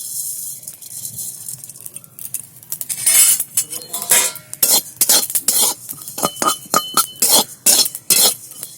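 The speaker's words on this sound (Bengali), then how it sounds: "জিরেগুলো ভালো করে ভেজে নিচ্ছি" Whole cumin seeds dry-roasting in a dry clay-coated pan, with a faint rustle at first, then loud, rhythmic metal spoon scrapes and clinks against the pan as the seeds are stirred.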